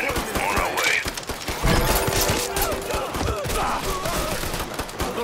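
Dense gunfire in the video game Mafia 3, a loud continuous fusillade of overlapping shots and impacts during a firefight, with no talking.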